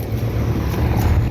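A 2005 Ruud 3.5-ton commercial air conditioner runs with a steady, low droning hum and airy whoosh, close by and unchanging for the whole stretch.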